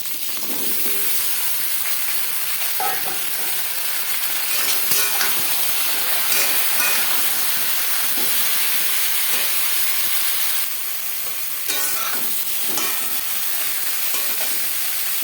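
Pumpkin pieces frying in oil with panch phoron and bay leaf tempering give off a steady, loud sizzle and hiss, broken by occasional scrapes of stirring across the whole stretch.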